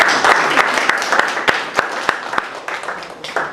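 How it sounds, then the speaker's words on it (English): A college auditorium audience applauds after a stand-up comedy bit, loud dense clapping close by filling the few seconds, with a voice briefly mixed in. "Give him a great big round of applause."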